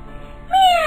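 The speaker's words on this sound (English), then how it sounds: "Meow! Said Love." A cat meows once, a clear, loud, drawn-out call that starts abruptly after a quiet moment and holds its tone to the end.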